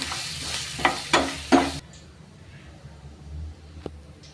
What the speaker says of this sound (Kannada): ರುಬ್ಕೊಂಡಿರೋದು ಕೊಬ್ಬರಿ, ಹಸಿಮೆಣಸಿನಕಾಯಿ, ಹುಣಸೆಹಣ್ಣು ಹಾಕಿ ಮಿಕ್ಸ್ ಮಾಡ್ಕೊಬೇಕು.